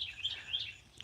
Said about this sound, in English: Hear the bird?